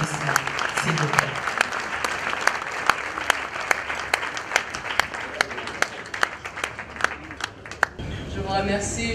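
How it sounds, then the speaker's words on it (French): A crowd claps at an award ceremony in the Democratic Republic of the Congo, dense and sustained with a few sharp individual claps standing out, before a voice begins speaking at the end. "Sous vos applaudissements, s'il vous plaît."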